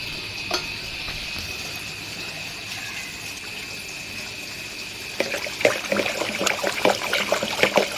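Water mixed with yeast for a moina culture is stirred by hand. A soft trickle turns into louder sloshing and splashing in the second half.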